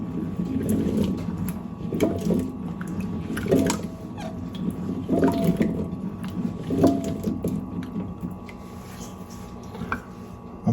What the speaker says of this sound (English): I'm going to mix the water with the olives.